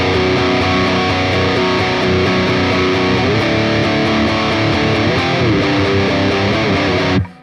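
Heavily distorted electric guitar chugs through the power-chord chorus, loud, dense and steady, then cuts off abruptly near the end with no talking.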